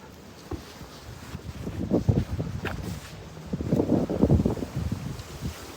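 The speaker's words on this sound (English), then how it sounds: "It is windy." Gusty wind buffets close to the microphone in loud low rumbling bursts that swell and fade over several seconds, with faint rustling in between.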